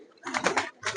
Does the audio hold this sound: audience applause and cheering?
no